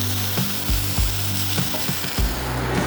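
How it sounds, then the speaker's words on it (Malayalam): Onions sautéing in a pan until brown for a prawn roast, a steady close sizzle with repeated soft scraping stirs and clacks of a spatula against the pan, no voices. "ഒരു ബ്രൗൺ കളറിലേക്ക് എത്തുന്നത് വരെ സവാള നന്നായി വഴറ്റിയെടുക്കുക"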